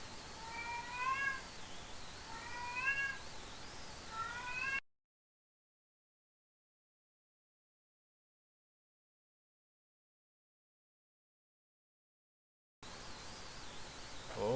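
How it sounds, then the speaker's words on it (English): A pet cat meows loudly several times in a row, with drawn-out, rising and falling cries. The sound cuts out for several seconds, then the meowing returns, with no speech over it. "My cat's being a little noisy now."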